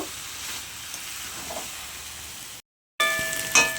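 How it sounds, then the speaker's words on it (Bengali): Garam masala being stirred into banana flower curry (mochar ghonto) in a pan, with a soft steady sizzle, a short break, then louder scraping and stirring. "দিয়ে দিচ্ছি গরম মশলা এবার ভালো করে মিশিয়ে নেব"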